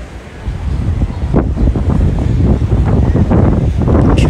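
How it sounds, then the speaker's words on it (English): Strong wind roars and rumbles against the microphone without letup at a beach in Brazil, mixed with the steady hiss of waves nearby. "getting down here where it's windy again."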